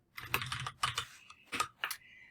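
Fingers type on a computer keyboard in short, quiet bursts of clicking keystrokes with small pauses between, close and alone.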